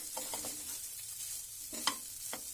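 Broken wheat dalia being stir-fried in a kadhai for a dry dalia dish, with a soft steady sizzle under scattered scraping stirs and one sharper clink near the end.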